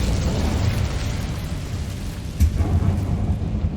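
The Incendio fire spell in Hogwarts Legacy lets out a loud, low roaring whoosh of flame that rumbles steadily, with a heavier burst partway through.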